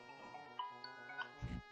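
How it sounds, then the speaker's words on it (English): A mobile phone ringtone plays a short, bright melodic chime that lasts under two seconds, faint behind the sounds of a video game session. "How's my phone ringing?"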